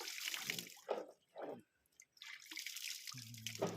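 Water trickles and drips close by as it is poured out for washing, in short uneven bursts with brief pauses between them and a low hum near the end.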